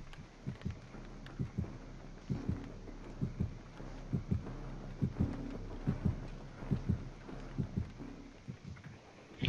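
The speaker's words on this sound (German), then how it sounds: "Ich glaube, das ist kein gutes Zeichen, wenn mein Herzschlag so hoch geht." Heartbeat in Dead by Daylight, a regular thumping double pulse repeating steadily through the dark, close and moderately loud with no voices.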